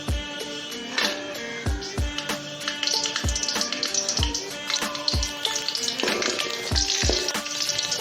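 Eight dried red chillies frying in hot oil for a pulicha keerai dish: a continuous crackling sizzle punctuated by regular thuds and clinks of a stirring spoon against the pan, close and moderately loud, with no voices.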